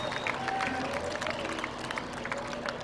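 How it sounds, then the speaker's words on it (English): Audience applause for donors and sponsors at the Dodge County Fair supreme livestock showmanship event, a steady wash of clapping and crowd noise that holds evenly throughout, with faint voices and a thin tone running underneath. "So big applause for your donors and your sponsors"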